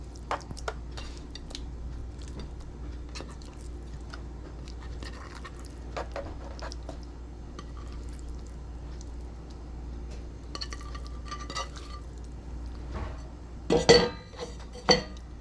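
Herring fillets going into a pan and being stirred in make quiet scattered clinks and scrapes of utensil against pan, with a few louder knocks near the end over a low background hum.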